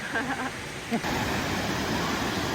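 A waterfall in Mexico rushes as a steady, broadband roar that swells to full loudness midway, with a voice heard briefly over the water at the start.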